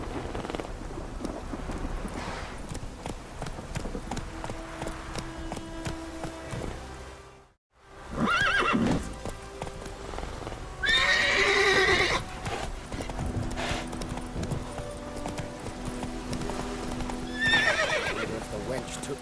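Video game horse Roach clip-clops and whinnies in The Witcher 3, hooves steady and close over an ambient game score, with a brief silent gap midway and a voice speaking.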